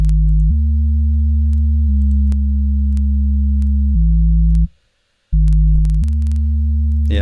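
A sine wave sub bass synth built in Serum with an added third harmonic plays as loud, clean sustained low notes changing pitch in steps, with one short silent gap before the tone resumes.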